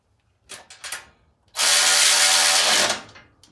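A Porter-Cable 20V 3/8-inch cordless ratchet tightens a bolt on a bike, first with a couple of short clicks and then a loud, steady motor whir lasting over a second before it stops.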